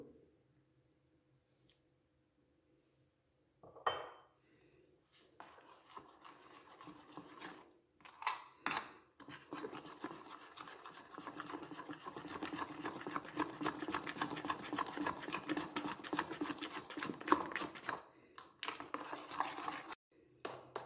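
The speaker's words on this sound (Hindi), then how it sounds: "और बहुत अच्छे तरीके से इसको हम फिर फेंटेंगे।" Chocolate marble cake batter with a few spoons of milk whisked by hand in a bowl: after a quiet start, rapid, steady clicking and sloshing strokes run continuously, with brief pauses.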